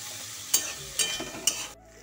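Eggplant slices frying in a little oil, a soft steady sizzle broken by three evenly spaced clinks or scrapes before it cuts off abruptly.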